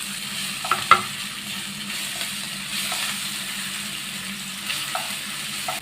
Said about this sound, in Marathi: याच्यावर लसूण अद्रकची पेस्ट घालूया आपण